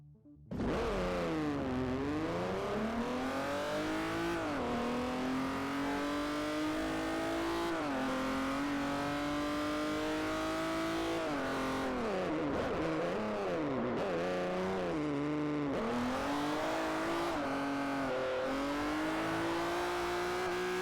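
A Saab 9-3 Turbo X races around Laguna Seca in Forza 4, its engine droning loudly and continuously as it rises and falls through gear changes and repeated acceleration, with brief dips in pitch under braking.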